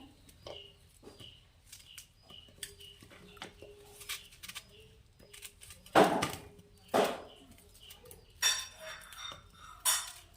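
Knife cutting a homegrown local lemon into small pieces on a board, quiet and close, with scattered sharp taps and a few louder chops, in a kitchen with faint background sounds.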